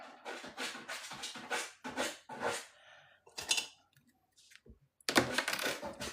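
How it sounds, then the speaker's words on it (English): A dog scratching hard at its bed, a series of loud close rapid scraping bursts, several in quick succession, then a pause and another burst near the end, with no talking. "She's trying to scratch her bed to death."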